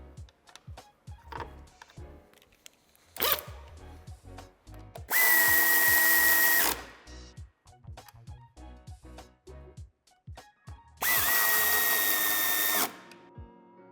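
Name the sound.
power tool fastening a nut on car tow hitch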